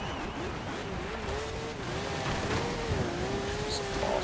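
A BMW drives in Forza Horizon 4, its engine droning steadily with a rising and falling pitch and faint tire noise, under a continuous game soundscape.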